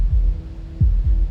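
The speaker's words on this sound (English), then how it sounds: "That was the sound of a heartbeat," A heartbeat sound effect from the video game Slay the Princess sounds loud and close: deep, low thumps in a slow, regular throb over a steady hum, with no talking.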